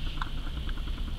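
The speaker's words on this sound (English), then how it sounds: "We have rain." Rain falling on a van, light patter and scattered drips ticking on the body over a steady low hum, continuous and close, with no talk.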